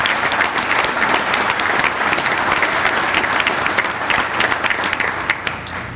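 Attendees at an annual meeting where the governor is speaking clap in sustained, dense applause, a loud even crowd of hands lasting the whole stretch without letting up.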